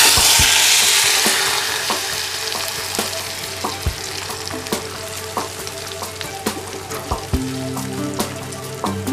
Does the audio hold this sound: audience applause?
no